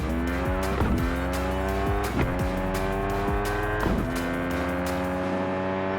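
A car races around a track in the video game Car Parking Multiplayer, its engine winding up through repeated quick gear shifts with whining revs and tire squeal, loud and constant, with no talking.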